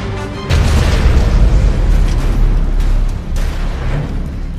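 A nuclear weapon detonates in the game C&C: Rivals: a loud, close boom that rolls into a sustained, heavy rumble, fading briefly before swelling again.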